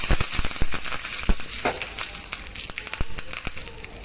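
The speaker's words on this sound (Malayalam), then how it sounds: "നമ്മൾ കടുക് പൊട്ടിക്കുക, ജീരകം ഇടുക, മുളക്, അതേപോലെ കരിവേപ്പില, ഇതൊന്ന് വറുത്തിട്ടാൽ സംഗതി ഉഷാറായി" Mustard seeds, cumin, chili and curry leaves fry in hot oil for a kappa biriyani, giving sharp crackling pops over a steady sizzle, close and fairly loud, with no talking.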